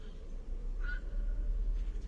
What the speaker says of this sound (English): This croaky call is a night heron.